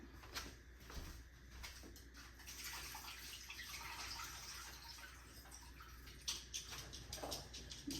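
Water being drained off boiled potatoes into a kitchen sink, a faint splashing pour with a few clanks of the pot, quiet and close with no talk.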